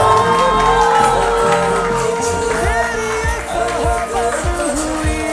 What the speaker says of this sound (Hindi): जरा हाथों को खोल के तालियां सुनाओ।